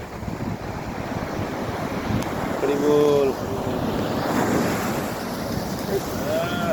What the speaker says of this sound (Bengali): সমুদ্রের ঢেউটা শুধু অরিজিনাল ঢেউটা শুধু শোনো